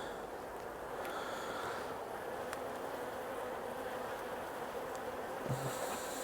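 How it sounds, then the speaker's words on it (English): Honey bees hum in a steady, dense drone at an opened three-frame nuc hive that recently went queenless. The hum is faint, with occasional light knocks and clicks from handling and no talk. "The bees, again, they're not terribly happy."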